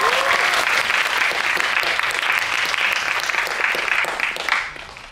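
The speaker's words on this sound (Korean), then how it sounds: "모두 환영의 큰 박수 부탁드립니다." A seated audience at a film screening Q&A applauds to welcome the director and actors of Concrete Utopia, a dense, steady clatter of many hands close by that holds for about five seconds and then tapers off at the end.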